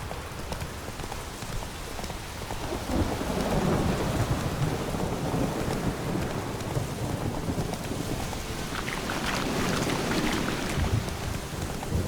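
Steady rain with rolling thunder in a Witcher 3 Wild Hunt storm, a continuous dense downpour with low rumbles swelling through it, heard alone without speech.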